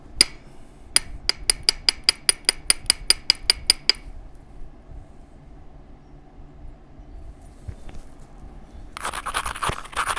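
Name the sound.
trimming the tip off a flint lance by knapping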